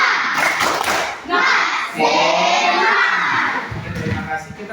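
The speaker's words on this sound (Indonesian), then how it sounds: "Coba dulu tepuk semangat." A school class does a rhythmic spirit clap together, loud patterned hand claps mixed with children's chanting and shouting voices in a lively room, with brief pauses between clap phrases.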